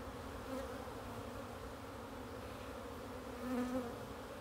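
Honeybees buzz steadily at a hive in early spring, a close, continuous drone with a few individual bees swelling louder as they pass near.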